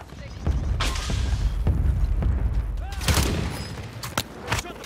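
Sniper gunfire in a Call of Duty match, heard as a few sharp, separated shots over steady low-end rumble, with a voice talking in the background.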